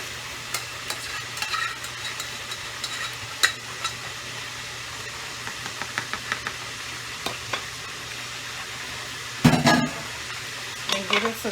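Cabbage, smoked sausage and bacon being stirred together in a pot, with soft scraping clatter and a faint sizzle running throughout, plus a louder burst of stirring near the end.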